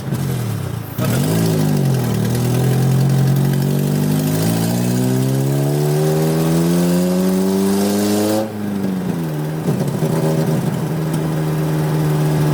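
A Honda Civic EF fitted with a swapped K24 engine revs in one long climb for several seconds, then drops back to a steady idle; loud, close and without talk.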